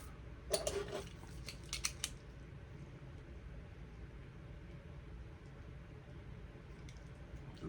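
Tape on a comic book short box being sliced open at a convention, a few quick sharp scratchy cuts close by, then a quiet room hum for the rest.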